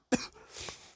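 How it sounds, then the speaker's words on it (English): A single sharp cough bursts out near the mic, followed by a softer throaty rasp like clearing the throat, then quiet. "See, my cough trying to fight back up against me."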